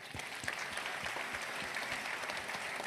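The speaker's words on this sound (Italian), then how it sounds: "Un applauso." An audience applauds at an awards ceremony for the Premio Mestre painting prize, a steady patter of many hands clapping at moderate distance, fairly soft and continuous.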